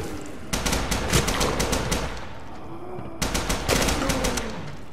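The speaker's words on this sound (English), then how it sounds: "This gun is very loud" Rapid bursts of loud gunfire from a weapon in Bendy and the Ink Machine, two separate volleys of quick, sharp repeated shots separated by a brief lull, close and dominant.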